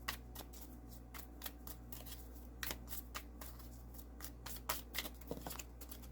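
Tarot cards shuffled by hand in quick, papery riffles and soft slaps, a run of close, crisp bursts over a quiet room hum with no talking.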